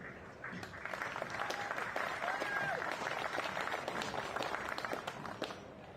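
Enthusiastic crowd applauding at a 10-ball pool match at the Rio All Suites Hotel and Casino, steady dense clapping that holds for several seconds after a short quiet start.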